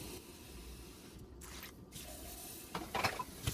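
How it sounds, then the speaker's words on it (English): Water is poured over dry chicken in a pot for palm butter soup, a soft splashing pour that builds into brief louder sloshes near the end, quiet and close. "Just pour the water on top of it"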